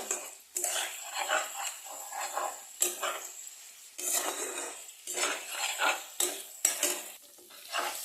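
A spice paste is stirred in a pan for a potato and cauliflower curry, with repeated scraping and clinking utensil strokes over a faint sizzle in uneven bursts, no voices.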